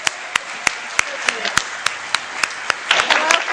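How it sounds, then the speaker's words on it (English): A gathering at a college staff session begins a round of applause, sharp, evenly spaced claps ringing out one after another before thickening into fuller clapping at the end. "Let's give our colleagues there a welcoming round of applause."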